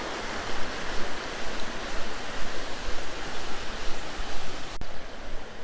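A creek flows in a steady, broad rushing wash near Illick Mill and Monocacy Park in Bethlehem, Pennsylvania, close and constant with gentle pulsing surges and no voices.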